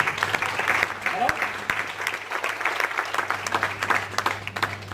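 Applause from an audience at an Amway team meeting in Delhi, brisk clapping throughout with a steady electrical hum beneath and faint voices mixed in.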